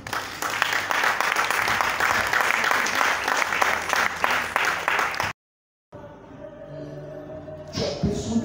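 A church congregation claps loudly and steadily for about five seconds, then falls briefly silent before quieter crowd noise and scattered claps return.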